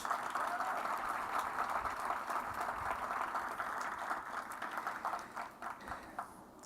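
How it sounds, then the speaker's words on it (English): An audience at an outdoor groundbreaking ceremony for a Boys & Girls Club applauds the event staff, a sustained, even wash of many hands clapping that thins slightly toward the end. "Please give them a round of applause."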